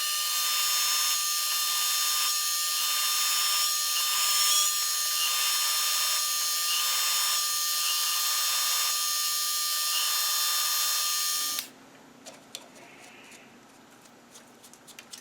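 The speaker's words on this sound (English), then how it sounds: "I've drilled this side for tapping." A power drill bores holes into metal in preparation for tapping, a steady loud high-pitched whine running continuously for about eleven seconds before cutting off abruptly, leaving faint workshop clatter.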